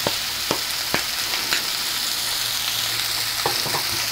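Bitter gourd frying gently on low heat, a soft, steady sizzle with several sharp scraping stirs of a spatula, close and clear with no talking.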